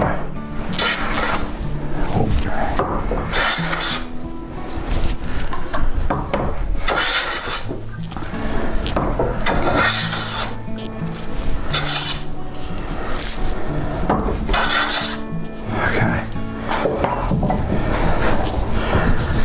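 Wood being planed and smoothed by hand while shaping an old rugged cross, loud repeated rasping strokes in an uneven rhythm, close and alone throughout.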